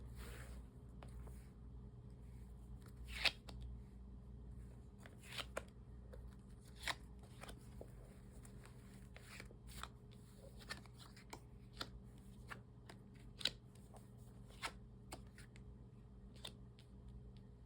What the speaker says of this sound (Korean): 카드를 뽑아볼게요